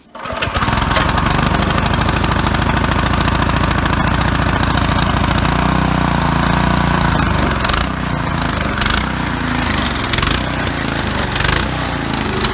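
A small tiller engine starts and runs loudly and continuously with a rough, rattling mechanical roar close by, with slight changes in pitch as it settles.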